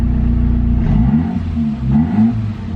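Straight-piped Saab 9-5 wagon exhaust revving, a deep throaty engine note that rises and falls through a couple of throttle blips, close and fairly loud with no talking.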